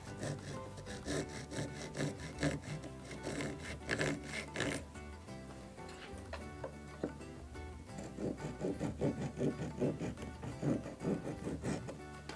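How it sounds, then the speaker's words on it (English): A flush trim saw cuts protruding wood from a glued dovetail joint, giving rhythmic back-and-forth rasping strokes in bursts with short pauses, fairly close and steady. "why don't we just trim it flush and see how it looks"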